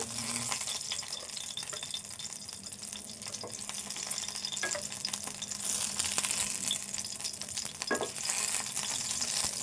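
Green chillies frying in a pan for bottle gourd sesame chutney, a faint, steady sizzle with occasional light stirring scrapes, heard close but quiet.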